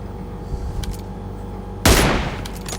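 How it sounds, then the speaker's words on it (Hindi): A single loud M24 sniper rifle shot in the PUBG Mobile video game cracks out late, sharp and close, with a short decaying tail, after a stretch of low background rumble. "तो बोट को मैं गिरा देता हूँ M24 से।"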